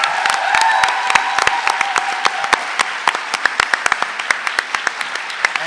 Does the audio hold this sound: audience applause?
yes